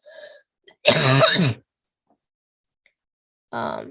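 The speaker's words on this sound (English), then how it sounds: "Excuse the cough" A single harsh cough rings out close by, followed after a pause by another short throat-clearing burst.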